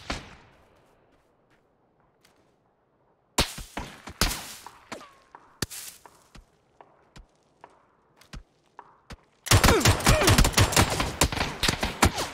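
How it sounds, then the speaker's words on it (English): Gunfire in PUBG: Battlegrounds on the Deston map, with scattered sharp shots and a few short bursts, then a loud, dense run of rapid automatic fire near the end. "Oh, we're getting shot."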